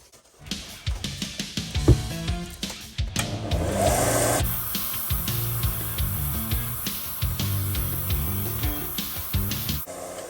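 An angle grinder fitted with an 80 grit sanding disc works on a surface, its motor whirring continuously under repeated scraping and rubbing bursts, close and fairly loud throughout.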